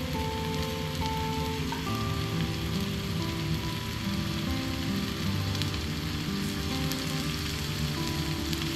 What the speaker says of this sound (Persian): باز وقتی که سوشی رو به روغن هم سرخ کنیم، این دیگه باز کاملا آماده میشه